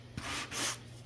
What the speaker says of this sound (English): So I'm just going to take my sanding block and